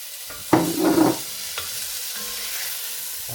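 Diced ham goes into a pot of creamy cabbage soup, giving a short sizzling burst that quickly settles into a faint, steady simmering hiss with one small clink.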